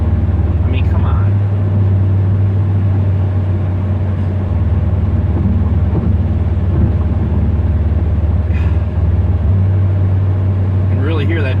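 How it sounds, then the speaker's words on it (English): Car exhaust with Thrush welded mufflers, a steady loud low drone while cruising on a highway, the tone shifting in pitch and weight a few times as the DOD cylinder deactivation cycles on and off. "You can really hear that DOD kicking on and off."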